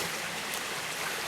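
A mountain stream flows on a rainy, snowy backpacking route, giving a steady, faint hiss of running water with no break and no voices.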